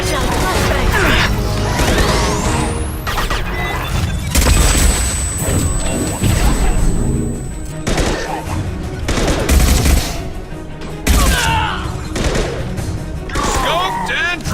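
Flashbang grenade going off in the video game Mass Effect 2 amid loud combat, with booms, gunfire bursts and crashes piling up, while voices talk over the din.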